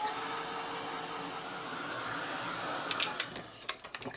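Heat tool drying paint on an art tag, a steady close whooshing hum of blowing air that runs throughout, with a few light clicks and taps near the end.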